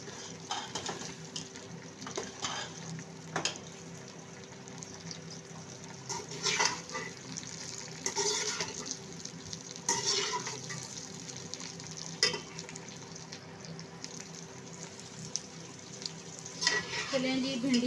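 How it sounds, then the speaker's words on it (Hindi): Sliced okra frying in a pan alongside onion, a soft continuous sizzle with occasional stirring scrapes and clinks, fairly quiet and close, with no talking. "आंच पे हम भिंडी को फ्राई करेंगे, 3-4 मिनट तक फ्राई करेंगे भिंडी को।"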